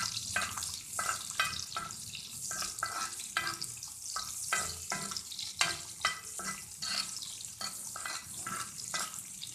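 Onions fry lightly on a tawa for vegetable pulao while a spatula scrapes and stirs in a steady rhythm of repeated strokes over a constant sizzle, with nobody speaking.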